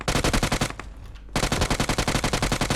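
Rapid automatic gunfire from PUBG Mobile on a Minecraft-style Bedwars map, loud steady bursts of evenly spaced shots that pause for about half a second and then resume at the same rapid pace.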